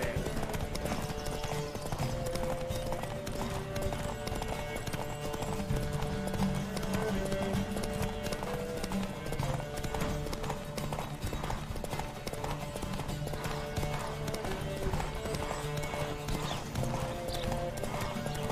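Horses galloping with riders: steady, continuous hoofbeats clip-clop throughout, close and fairly loud, with an occasional whinny rising over the running.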